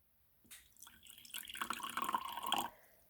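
Water is poured from one glass into another at close range for about two seconds, splashing and gurgling faintly and rising in pitch as it fills.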